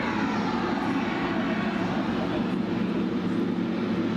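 A plane taking off at Cologne Bonn Airport: a continuous low engine roar from the aircraft, steady and fairly distant, with people talking over it.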